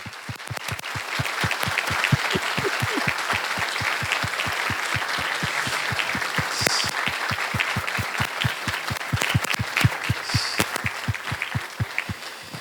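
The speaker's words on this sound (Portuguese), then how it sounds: "queria convidar a todos neste sagrado momento a dar a eles uma calorosa salva de palmas." Warm, sustained applause from an audience at a book launch held by a seminary, dense clapping with some rhythmic unison beats, steady and full for over twelve seconds.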